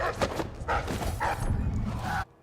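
A dog barks in a video game, a few quick yipping barks in a row, close and fairly loud, cutting off abruptly at the end.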